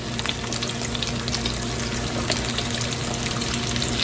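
Chicken tenders frying in oil in a skillet, a dense, loud, continuous crackling sizzle that holds steady throughout with no talking.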